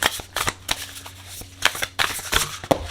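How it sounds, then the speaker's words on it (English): A tarot card deck is shuffled by hand, giving a quick series of crisp riffling snaps and soft flutters, close and fairly loud, with no talking. "So this is the tarot deck that we're going to go ahead and use today. We're going to start by shuffling."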